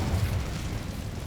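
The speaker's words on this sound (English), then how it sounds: "Incendio" An Incendio fire spell cast in Hogwarts Legacy, a short, dense rumbling burst of flame, loud and close, lasting barely more than a second with no voices.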